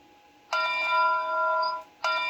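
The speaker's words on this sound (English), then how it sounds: "The backup bell" A model steam train's electronic backup bell rings in a sustained bright, tonal chime for over a second, then starts again after a short gap, loud and close.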